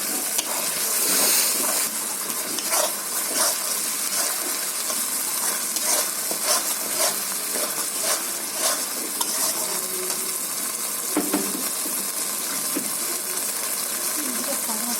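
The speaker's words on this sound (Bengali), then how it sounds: "এখন আমি কড়াইতে তেলের মধ্যে দিয়ে দেবো" Yogurt and ground spice paste hitting hot oil in a wok, a bright steady sizzle with scraping stirs and clinks throughout, heard close.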